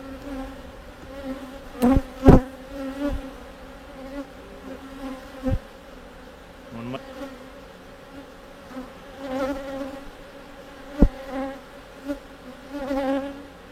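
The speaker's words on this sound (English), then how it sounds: "There's a lot of bees and nowhere to go in this hive, so. And they're queenless." Agitated, queenless honeybees crowd a hive, their steady buzzing swelling and fading with a few sharp, close passes near the microphone.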